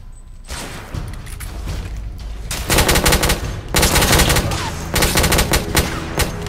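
Shotgun gunfire in the video game The Order: 1886, heavy repeated blasts in dense bursts over a steady game backdrop, loud and close, with brief gaps between volleys.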